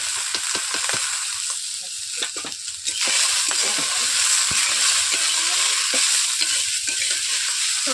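Vegetables sizzling in hot oil in a wok, a steady loud frying hiss with repeated scraping stirs and clatter of the spatula, close up and without talk.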